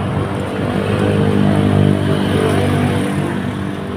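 Heavy road traffic from many vehicles forms a dense, continuous roar of engines and tyres, loud and close, swelling slightly as vehicles pass, with no talking.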